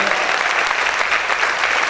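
A church congregation claps loudly in praise during a sermon, a dense, steady wash of many hands striking at once, close and filling the room with no voice standing out.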